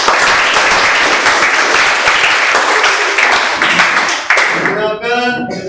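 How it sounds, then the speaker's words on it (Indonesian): A class of students claps together in quick, dense group applause that thins out near the end, where a voice briefly cuts through. "Tepuk tangan untuk kita semua."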